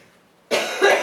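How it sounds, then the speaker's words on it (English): A single sharp cough bursts out close and loud after a brief quiet lull, with a second push of breath following. "I'm very sorry for coughing."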